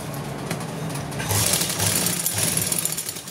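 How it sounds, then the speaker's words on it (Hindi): A sewing machine stitches a folded coat collar, its motor running in a steady continuous whir that grows louder partway through, close by and alone. "यहाँ पे हम सिलाई लगाएंगे"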